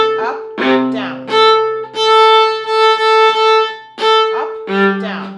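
Open strings on a viola bowed in alternating up and down strokes, a series of long resonant notes with short gaps and occasional string changes, played up close with no talk.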